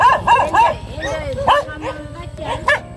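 A dog that recently gave birth gives a quick series of high yips and barks, bunched near the start and scattered later, heard close over a steady low hum, with voices talking at times.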